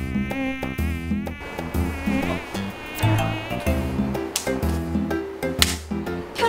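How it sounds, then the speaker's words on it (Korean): A mosquito's persistent high whining buzz carries steadily throughout, with layered tonal sounds running beneath it and no voices. "바로 잉잉 거리면서 잡아도 잡히지 않는 이 모기가 문제인데요"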